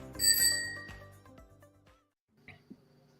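A bright bicycle bell rings loudly with a shimmering, decaying tone, followed by a short pause and two faint, brief knocks.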